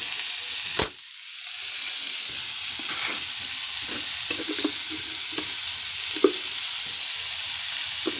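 Chicken fries in a very hot pan. After a sharp initial burst, a steady loud hiss of sizzling continues, with scattered scraping clatters as it is stirred.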